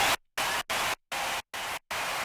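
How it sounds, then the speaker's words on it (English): Saturated white noise from a synth plugin in FL Studio, played as six loud hissing bursts of broadband static cut cleanly by short silences. "I want a really nice saturated white noise there."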